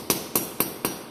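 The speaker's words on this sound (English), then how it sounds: "using a hammer," Four sharp, evenly spaced hammer blows ring out as a metal wheel washer is flattened, each a bright, close metallic strike with a short decay.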